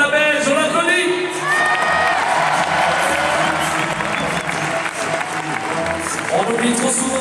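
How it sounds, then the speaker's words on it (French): A live audience applauds and cheers at a French-language tribute to a Belgian singer, with sustained dense clapping, some whoops and shouts filling the whole stretch at steady loudness, and voices mixed into the crowd noise. "Allez, s'il vous plaît, pour la Belge, on l'applaudit."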